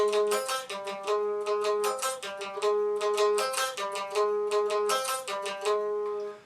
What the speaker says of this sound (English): the guitar riff that rings throughout the entire song